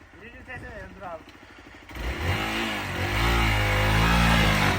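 A motocross motorcycle labours uphill through a Cappadocia valley, its engine droning loud and strained with a low steady rumble that swells and holds, while voices talk over it at the start.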